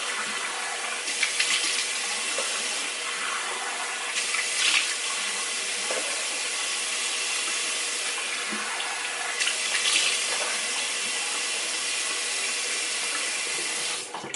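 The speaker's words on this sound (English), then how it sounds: "So I'm going to go ahead and rinse it off." Tap water running steadily into a sink as someone rinses their face, with splashing bursts from cupped hands throughout, close and fairly loud.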